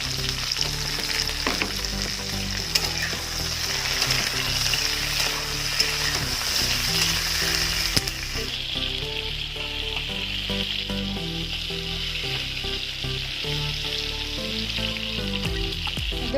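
Eggplant pieces fry alongside pointed gourd in hot oil, giving a loud, continuous sizzle and crackle up close, with light stirring and a brief shift in the hiss partway through.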